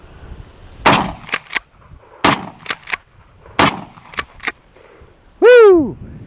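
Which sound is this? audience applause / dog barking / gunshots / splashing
gunshots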